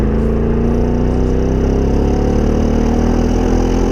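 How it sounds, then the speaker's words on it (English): A Ford Mustang GT V8 idles steadily and loudly at close range, a deep even rumble with a faint lilt of throttle, held for about four seconds with no voices over it. "the V8 on the Mustang sounds like this"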